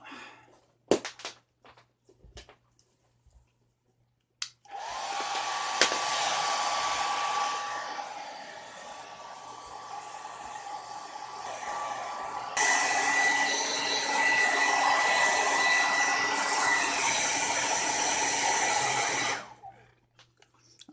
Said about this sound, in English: We're just going to fire up the hairdryer.